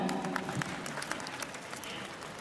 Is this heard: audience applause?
yes